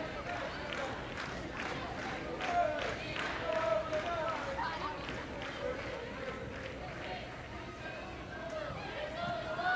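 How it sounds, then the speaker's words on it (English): A stadium crowd at Kingsmeadow reacts warmly during a 2023/24 Women's Super League match between Chelsea and Manchester City, a steady, fairly distant murmur of appreciation with scattered clapping running throughout. "Draws appreciation from the crowd inside Kings Meadow."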